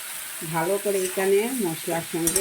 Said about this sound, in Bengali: এবারে এই যে ফুলকপি আলু না ভেজেই দিয়ে দেব। ভালো করে এখানে মশলার সঙ্গে ভেজে নেব।